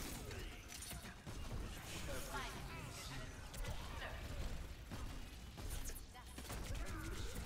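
Rapid video game gunfire crackles in dense bursts through a shooter match, mixed with mechanical clatter and layered under near-constant talk.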